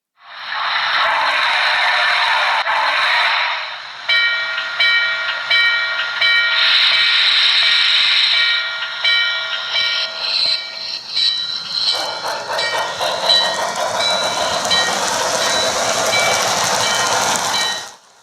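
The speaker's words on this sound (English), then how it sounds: "the engineer on train number 27 opens the throttle and charges off into the night" A model train runs steadily along its track on a model railroad club layout, with a loud hissing rush and rhythmic clicking, the tone shifting partway through as it keeps moving.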